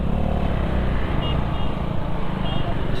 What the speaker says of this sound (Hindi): इतना ट्रैफिक है क्या?